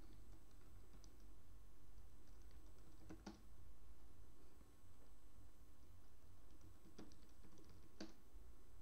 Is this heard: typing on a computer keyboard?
yes